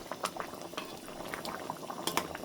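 Shorputi fish gravy boiling in a pan, a steady low bubbling simmer with scattered small pops and brief clinks, close and fairly quiet with no voice over it.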